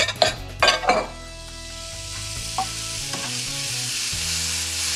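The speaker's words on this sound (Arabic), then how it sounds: "هلا هون بلشنا نقلي نحن، بدي جيب روس القريدس بدي حطهم وطبخهم" Shrimp heads fried with celery and garlic in a pan, starting with a few metallic clinks and scrapes, then a loud, steady, close sizzle that fills the rest.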